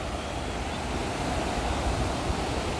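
River water rushes over a rubble riffle, a dense, steady broadband roar of flowing water that stays constant and close throughout, with no voices.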